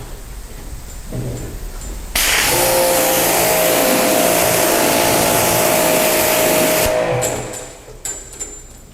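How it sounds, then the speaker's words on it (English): A pressure washer or hose rinses a car during detailing, a steady loud broadband spray starting abruptly and running for several seconds before cutting off, with quieter background before and after. "Let's rinse."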